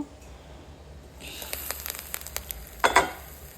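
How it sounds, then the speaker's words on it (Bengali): Chopped vegetables and onion frying in hot oil for a veg egg chop, a steady soft sizzle with a few sharper crackles and stirring scrapes near the end. "এবং তেল দিয়ে পেঁয়াজ দিয়ে একটু সবজিগুলো বেজে নেব"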